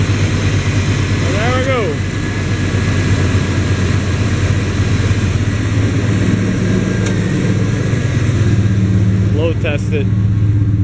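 A car engine runs rough in the cold, a steady low droning idle filling the whole stretch while someone talks over it.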